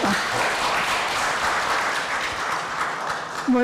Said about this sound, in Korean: 대한민국에서 가장 중요한 일을 하시는 우리 김경선 차관님께 다시 한번 박수 한번 보내주세요.